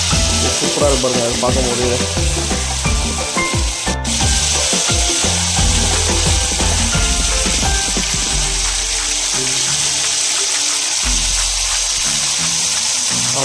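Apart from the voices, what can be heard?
chicken 65 pieces dropped in and frying in oil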